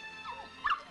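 A dog whimpers in a French crime drama film, with a short high whine early on and a louder, sharper whimper near the end, close by and with no talking.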